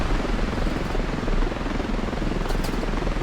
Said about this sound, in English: Alright, enemy helicopter sneaking. He's flying low.